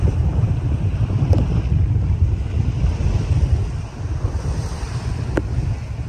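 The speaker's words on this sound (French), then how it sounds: "Un petit Fort 5 avec 20 nœuds de vent" Strong wind of about 20 knots on a small sailing boat at sea, a loud steady roar of gusts buffeting the microphone mixed with rushing waves and spray, continuous and close.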